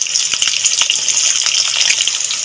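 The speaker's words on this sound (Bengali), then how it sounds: "তেল গরম হয়ে গেছে, তেলের মধ্যে দিয়ে দেবো ক্যাপসিকাম।" Capsicum frying in hot white oil in a wok, a steady close sizzle and crackle running continuously with small pops throughout.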